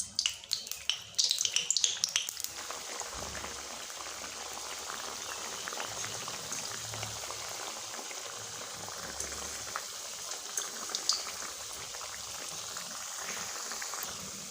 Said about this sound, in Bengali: এবার আমি এক এক করে আমি এগুলো ছেড়ে দেবো তেলের উপরে